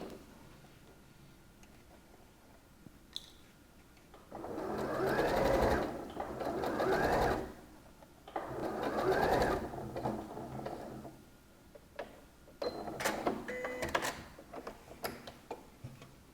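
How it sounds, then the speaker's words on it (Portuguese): A sewing machine stitches the other side of a lined shoulder in two steady, close runs, followed by ticking mechanical clicks and small handling sounds. "Eu costurei de um lado, agora eu vou costurar do outro"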